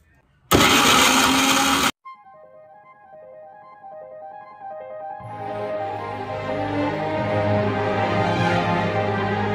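A mixer-grinder jar whirs loudly for over a second, grinding chopped lemon, potato and tomato pieces, then stops abruptly; a quieter stretch of engines and traffic follows and builds toward the end.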